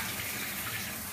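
Steady, broadband rushing of running water, like a tap or bath filling, continuous and close for the whole moment with no voices.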